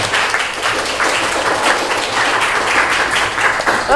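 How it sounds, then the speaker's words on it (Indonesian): Dense applause from a classroom audience for a student named Citra, steady and moderately loud for the full stretch with no voices standing out. "Oke, tepuk tangan dulu untuk Citra"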